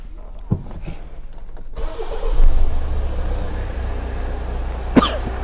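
A Hyundai car with an EGR valve fault code P0404 cranks and fires up, settling into a low, slightly uneven idle. A person coughs once before the start and once more near the end.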